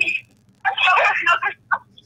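A phone ringtone from a video game, a short buzzy electronic tone burst, then a bright warbling ring lasting under a second and a brief final blip, fairly loud.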